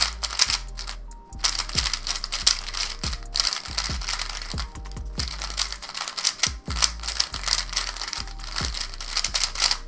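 A QiYi MS 3x3 speed cube being turned quickly, with a dense run of sharp plastic clicks and clacks in uneven rapid bursts, close and fairly loud, with no talking.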